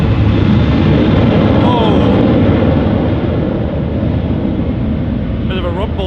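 A Ryanair airliner rumbling at Manchester Airport, a loud, broad, continuous roar that fills the whole span, with a short exclamation from a voice partway through.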